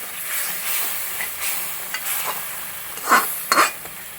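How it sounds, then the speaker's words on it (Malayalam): Kerala-style vegetable stew with coconut milk bubbling and simmering in a pan, a steady broadband hiss with a couple of sharper utensil stirs near the end. "നന്നായിട്ടൊന്ന് തിളക്കട്ടെ."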